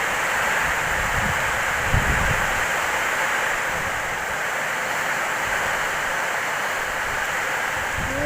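Strong wind during rain tears at palm leaves beside a house, a broad steady roar of gusts and rushing rain with occasional rustling bursts, continuous and fairly loud.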